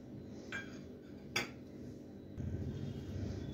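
A spoon clinks a few times against a bowl while tossing a lettuce salad with salt, chili flakes and Italian herbs, followed by soft, steady mixing rustles up close.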